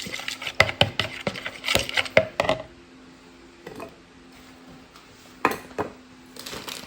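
Butter is broken up with brown sugar and flour for a muffin crumble topping, heard as irregular clinks and taps of a utensil against a bowl, clustered in bursts with quiet gaps between.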